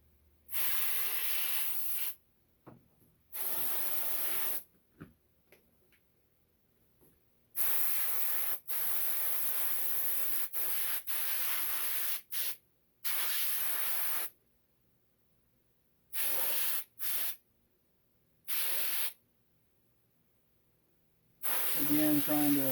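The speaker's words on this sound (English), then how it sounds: "trying to dial this airbrush back just a little bit, because I'm trying to get into the smaller details here" Airbrush spraying base paint onto a latex foam prop: repeated short bursts of sharp hissing spray, some brief and some several seconds long, separated by quiet gaps, close to the mic.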